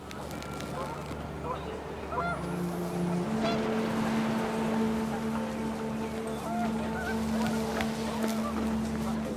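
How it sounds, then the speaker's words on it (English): Panicked geese honk in the video game What Remains of Edith Finch as the wind picks up, their calls scattered over a steady rushing background with a faint voice underneath. "The wind picked up, and panicked geese appeared and quickly went."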